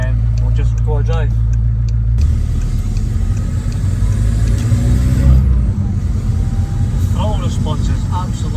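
A 1.9 TDI diesel car fitted with a 3-inch downpipe and no exhaust rumbles loudly and close, with a deep, steady drone that shifts slightly in pitch, as someone talks over it.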